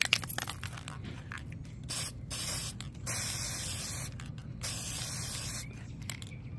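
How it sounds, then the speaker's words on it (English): Mod Podge acrylic spray is sprayed onto a composition notebook in several short hissing bursts separated by brief pauses, close and fairly quiet, with occasional clicks of the nozzle. "this is the Mod Podge acrylic spray"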